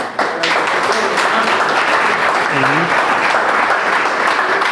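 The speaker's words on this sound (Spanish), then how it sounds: "Por favor, un aplauso para el" Steady, full applause from a lecture audience welcoming an architecture presenter, even and sustained clapping filling the room for several seconds.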